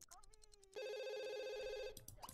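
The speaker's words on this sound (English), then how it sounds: "Go answer the phone!" A telephone rings in The Sims 2, with one sustained electronic ring tone between brief stretches of game sounds, clear and fairly quiet.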